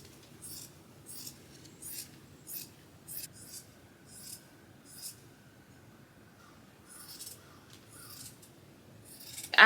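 Scissors snip through dress fabric in a steady series of about a dozen crisp, close cuts, fairly quiet, with a soft whispery rustle between snips and a louder handling sound at the end.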